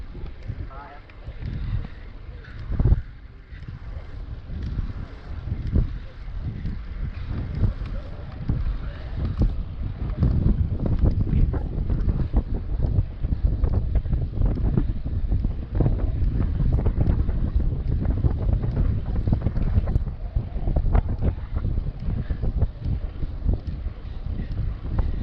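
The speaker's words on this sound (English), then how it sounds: "So we've already started to battle crosswinds." Steady crosswind buffets the microphone of a cyclist riding on an open road, with continuous low rumbling gusts swelling and easing throughout, close and fairly loud.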